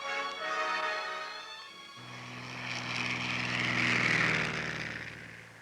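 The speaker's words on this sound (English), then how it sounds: "The planes and their pilots continue to fly, ever searching for new landing places in the jungle" A propeller airplane drones steadily over jungle, quieter at first, then its engine rises into a loud, sustained roar that swells toward the end of the pass.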